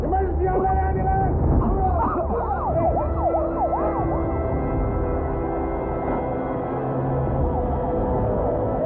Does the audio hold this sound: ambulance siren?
yes